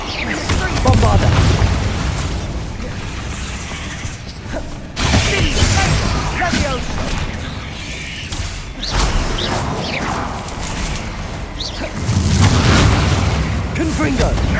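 Bombarda blasting spells go off in Hogwarts Legacy, heavy booming bursts that hit about three times amid a continuous roar of combat effects, with voices mixed in.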